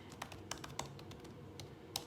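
Quiet keystrokes tap on a computer keyboard at an irregular typing pace, close by and faint, over a low room hum.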